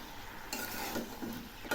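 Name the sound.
stirring vegetables frying on low heat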